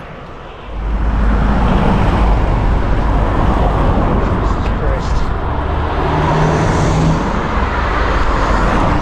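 Cars pass on a busy road in Slovenia's Istria region, heard from the roadside while cycling. The loud traffic rush and roar sets in after a quiet start and stays as a constant, close wash.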